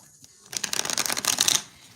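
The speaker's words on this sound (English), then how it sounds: "He know I shuffle these cards early in the rising." A deck of playing cards is riffle-shuffled once, a quick dense burst of crisp flapping lasting about a second, close and clear after brief quiet.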